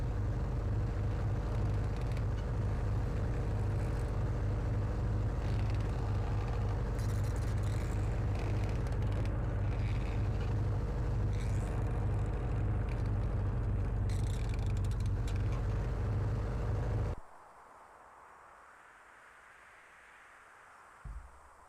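Car engine running in the PC game The Radio Station, a continuous low droning hum with mechanical rattle that cuts out abruptly near the end, leaving near silence and a faint brief knock.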